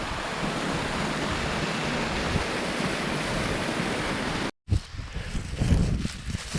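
A waterfall in a ravine in a Saskatchewan field gives a steady broadband rushing roar that stops abruptly, then returns as rougher, gustier water and wind noise.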